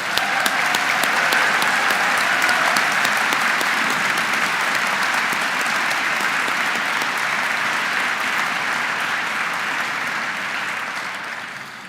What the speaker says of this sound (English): Could you have a round of applause for that?